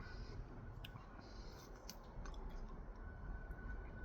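Close, wet chewing and crunching of a Catacomb hot pepper with a thick placenta, a steady mouth sound running through the whole stretch with a few sharper crunchy clicks and no talk.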